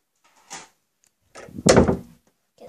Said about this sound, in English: that's our door shutting